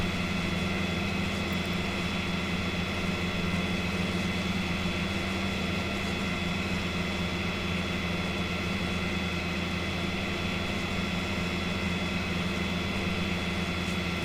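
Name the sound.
tractor engines in a farming video game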